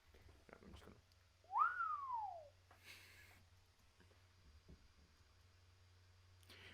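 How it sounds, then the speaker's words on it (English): A man gives a single sharp whistle, a quick rising then gliding-down tone heard fairly clearly over a quiet room hum, followed by faint rustling and a soft breathy noise. "you heard Coach Gill whistle out of nowhere"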